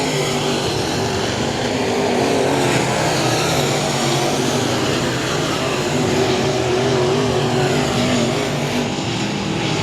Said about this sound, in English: Ryan Doyen checking out from the rest of the group in this first IMCA modified race.